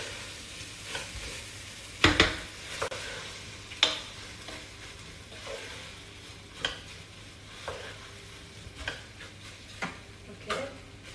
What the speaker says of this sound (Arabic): رح اقلي هيك كل شيء مع بعضه. الرز يتنكر ويشرب الزيت.